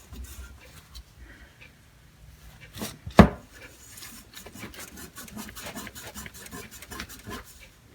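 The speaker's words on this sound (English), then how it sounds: "Might have to use a little steel wool on that" Steel wool scrubbing putty off an old Craftsman toolbox, a steady close scratchy rubbing with rhythmic strokes and one sharp knock partway through.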